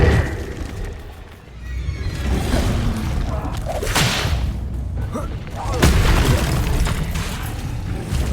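The Accio summoning spell is cast in Hogwarts Legacy, a whooshing, whip-like magical rush among booming bursts, with a voice calling out over the effects.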